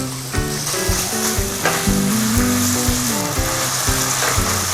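Ginger, garlic and onion sizzle steadily in hot oil in a pan, a continuous close frying crackle with music playing underneath.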